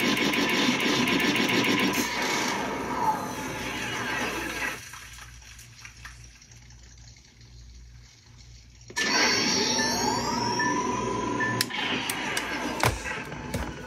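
Replica proton pack wand in Frozen Empire mode sputtering, a loud electronic crackle and whine with rising sweeps that cuts out midway and returns, with sharp pops near the end.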